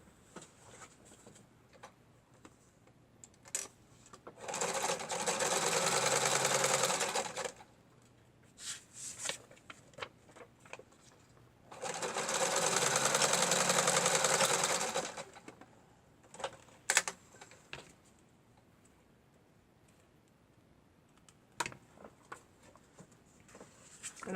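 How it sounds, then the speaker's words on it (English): A sewing machine runs a zigzag stitch in two bursts of several seconds each, a rapid whirring stitch, with quiet clicks and handling noises between. "I do have a sewing machine, so I'm just going to do a zigzag stitch"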